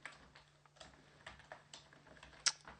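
Sparse keystrokes on a computer keyboard, typed slowly in short irregular clusters, with one sharper, louder tap near the end; quiet and close, no talking.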